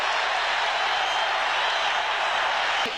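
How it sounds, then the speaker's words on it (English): A football stadium crowd roars continuously during an NFL game between the Washington Redskins and New York Giants, a dense, loud wall of cheering that holds steady throughout. "And the crowd goes wild."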